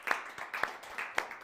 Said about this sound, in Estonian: teeme aplausi Ain Alarile